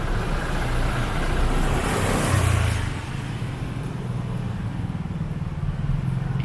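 Busy nighttime street traffic on a Friday evening in Cherngtalay near Boat Avenue, Phuket, with cars passing in a steady broadband roadway rumble, slightly louder in the first half.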